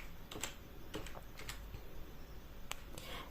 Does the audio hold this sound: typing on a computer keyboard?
yes